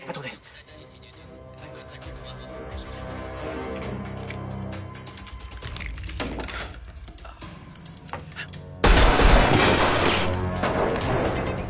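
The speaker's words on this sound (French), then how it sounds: "Il y a encore des coups de feu" Several sharp gunshots crack over a steady musical background in an action film, then a loud, sustained burst of noise takes over near the end.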